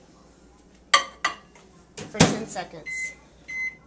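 A microwave oven in a home kitchen during a baking-soda experiment gives a few short, clear beeps, with clattering as a dish is placed inside and a voice speaking over it.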